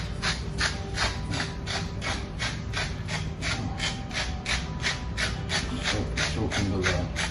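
A hand-cranked pepper grinder grinds pepper onto a raw brisket, its steady rhythmic ratcheting crunch repeating about three times per second, close and continuous.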